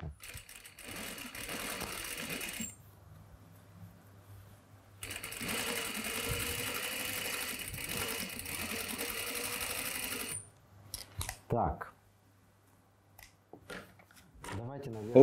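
Sewing machine stitching denim along the selvage, a steady fast mechanical whirr in two long runs separated by a pause, then a few short clicks and handling noises; a person speaks briefly around it.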